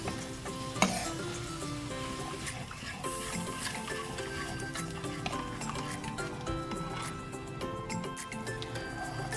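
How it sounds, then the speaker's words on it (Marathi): Cashews and onions frying in a pan for a restaurant-style veg biryani as curd is added, giving a steady, moderately loud sizzle with light stirring and occasional clinks of a utensil against the pan. "आता आपल्याला टाकायचं आहे 1 वाटी दही"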